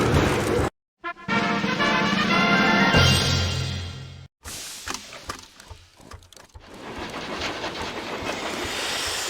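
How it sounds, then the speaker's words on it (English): A steam locomotive in the Lionel Trains video game pulls away from a train yard, with a steady chugging rumble, hissing steam and rising mechanical clatter, after a brief whistle-like tone at the start. "Forward gear engaged. The throttle is now open. Away we go!"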